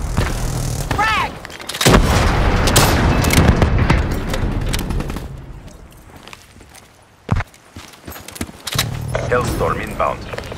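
Frag grenade detonating in the Black Ops 3 game during a Kill Confirmed match, a heavy boom with a long rumbling tail amid gunfire and loud game effects, with voice callouts mixed in.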